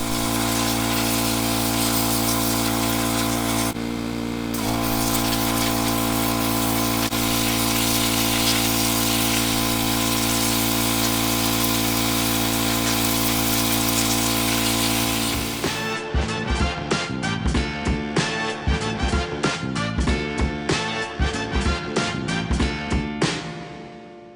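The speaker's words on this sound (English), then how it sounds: "I'm gonna get the power washer turned on and I'm gonna sandblast" A power washer runs for wet sandblasting of a Suzuki GS550 cafe racer frame, a loud, continuous broadband hiss that breaks into rapid rhythmic pulsing bursts near the end.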